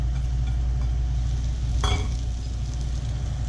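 Mushrooms stir-fry in hot olive oil with a steady, close sizzle over a low hum, broken once by a brief utensil scrape.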